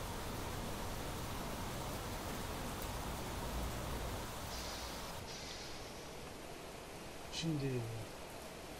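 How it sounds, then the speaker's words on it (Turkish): Steady, hissing rainfall from the video game Planet Crafter fills the whole stretch as a dense, even wash of noise. A voice briefly speaks a word near the end. "Yağmur sesi efekti çok fazla abi ya."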